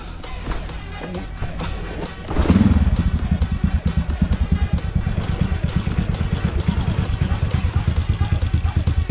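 A Honda Wave 125 motorcycle engine cranks and fires up, then settles into a loud, steady, rapid chugging idle close by.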